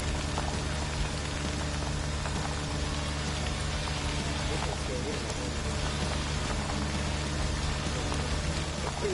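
Steady rain in the Friday the 13th video game, heard from inside a car on the passenger side, a continuous even hiss with low rumble throughout and no talk.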